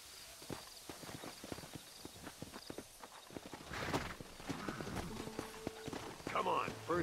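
Horse hooves clip-clop at a walking pace in the Red Dead Redemption video game, a steady rhythm of fairly close hoofbeats, with people talking over them and music swelling toward the end.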